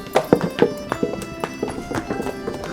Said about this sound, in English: not every day you're walking up a stair and you pass a horse